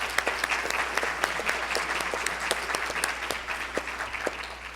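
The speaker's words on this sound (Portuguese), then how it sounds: "Salva de palmas, claro." Audience applause at a conference plenary session, steady dense clapping from a crowd throughout, fairly loud and continuous with no talking.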